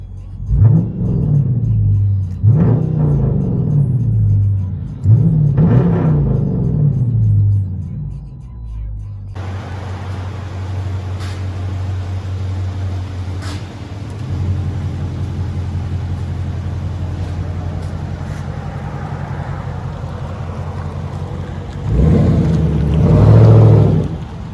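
A 2019 Dodge Charger R/T with a 5.7L HEMI V8 and straight-pipe dual exhaust, heard from inside the cabin, revs hard three times in quick succession, then settles into a deep, loud, droning rumble that swells again near the end.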